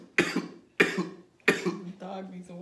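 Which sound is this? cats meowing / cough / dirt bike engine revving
cough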